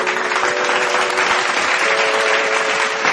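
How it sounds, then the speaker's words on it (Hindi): An audience gives loud, sustained applause for a singer at a live devotional stage program, a continuous wash of many hands clapping close up with no break. "जोरदार करताली।"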